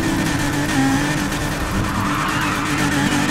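Continuous tire squeal as a Nissan 370Z drifts in the racing game NFS Heat, loud and unbroken over a steady engine roar for the whole stretch.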